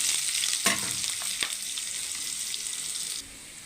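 Chopped onion fries in hot oil with cumin and bay leaf, a steady close sizzle broken by a few scraping stirs of the spoon before it quiets near the end.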